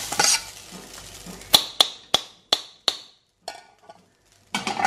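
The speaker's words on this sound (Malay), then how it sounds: "Oke, jadi kita akan menggoreng beras kita ni." Sharp scraping and clattering strokes as dry rice grains are stirred in a pan without oil, a burst of rustling then five distinct scrapes, followed by quieter shuffling.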